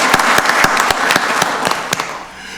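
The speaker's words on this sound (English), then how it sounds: "let's give them a round of applause for the fantastic work" Audience at a county board of commissioners meeting gives a steady round of applause, many hands clapping in a dense, sustained patter that continues without a pause.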